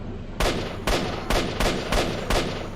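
Six loud, sharp gunshots echo in the video game S.T.A.L.K.E.R.: Shadow of Chernobyl, fired one at a time at roughly half-second intervals, each with a short fading tail.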